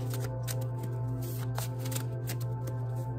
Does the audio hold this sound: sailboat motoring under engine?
no